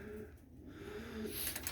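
Captive white and red doves or pigeons cooing softly in low repeated tones, faint and somewhat distant against steady background noise.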